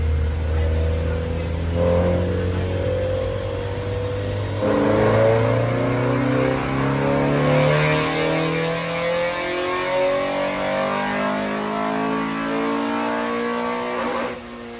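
Honda D15b SOHC VTEC engine on a stock block with Crower parts, revving on a dyno run, a loud sustained engine climbing steadily in pitch through the revs before cutting off near the end.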